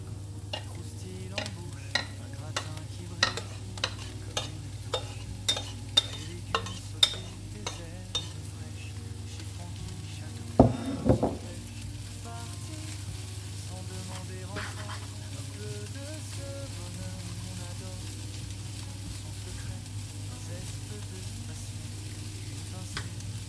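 Endives and onions sizzle steadily in a pan, with a run of regular clicking taps from a utensil early on, a brief clattering scrape midway, then the soft frying carrying on alone.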